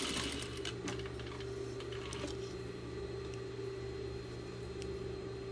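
A sewing machine stitches a seam on fabric for a cylinder, a steady close mechanical whir with rapid needle clatter, a brief back-stitch pattern early on, then continuous running.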